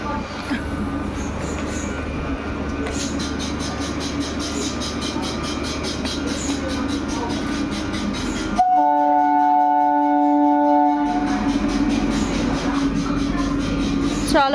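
A train passes through a station near Bardhaman Junction: loud rumbling wheels with rhythmic clatter, then a sustained high squeal and hum as it moves on. Faint voices sit under the noise.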